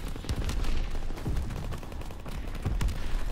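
Rapid bursts of machine gun fire in Call of Duty WWII multiplayer, loud and dense, with repeated heavy shots and booms layered throughout.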